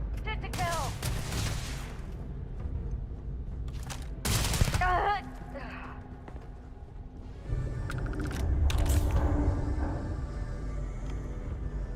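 Gunfire in Starfield rings out in several sharp bursts and a loud volley, close and punchy with ringing tails and game ambience between shots.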